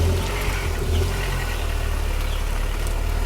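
Cold engine of a manual car idling, a low steady rumble with a slight unevenness at the start, close by and without speech.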